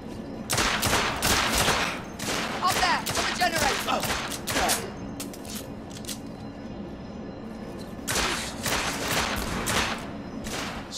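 Gunfire rings out in the video game The Order 1886, with loud bursts of rapid shots in two clusters separated by a quieter stretch.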